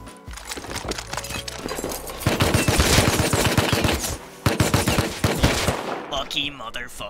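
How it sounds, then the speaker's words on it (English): Heavy gunfire during a raid in a video game, dense rapid automatic shots rattling almost continuously at close range, briefly pausing before another loud volley. "They shoot anything that moves."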